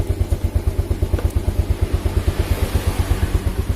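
Motorcycle engine idling steadily, a close, even low thump pulsing rapidly with a light mechanical clatter on top, alone with no talk.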